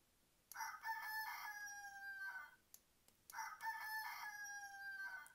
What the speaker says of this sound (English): And here comes the rooster.